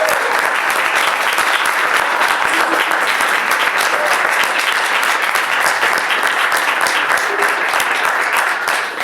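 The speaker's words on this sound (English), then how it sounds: "have one more round of applause for all of our students" A seated audience at a rabbinical seminary ordination ceremony claps loudly and steadily for the graduating students, a sustained even roar of applause throughout.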